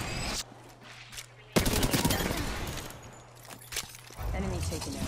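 Rapid gunfire bursts in the Apex Legends battle royale game, loud and dense with repeated shots blending into a continuous rattle, layered over game effects and a player's voice.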